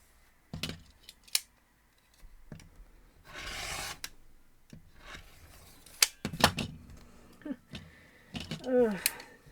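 Quilt fabric being cut corner to corner for a Buckeye Beauty variation block, heard as a series of short, close cutting strokes and rustles spread across the span, with a voice talking between some of the cuts.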